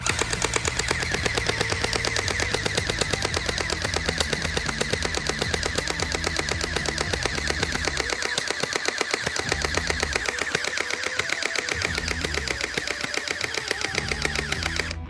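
A SplatRBall SRB750 gel blaster fires glow-in-the-dark gel ammo in rapid full-auto bursts, a loud close mechanical rattling stream of fast shots that runs continuously, heard alone.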